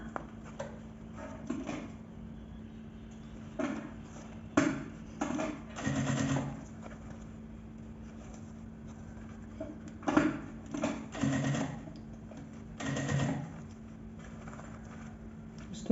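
A sewing machine runs in short, stop-start bursts while a quick shoulder bag is stitched, its close mechanical whir rising and falling over a steady low background hum.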